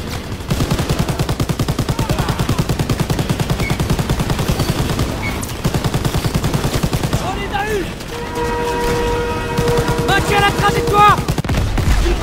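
Rapid automatic gunfire rattles in Call of Duty WWII, sustained bursts with heavy low thump running through most of the stretch, joined later by whistling effects and tones near the end.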